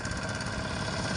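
A tractor engine runs steadily while ploughing rice fields, a dense continuous rumble with an even mechanical drone throughout a short stretch, near and fairly loud, with no voices.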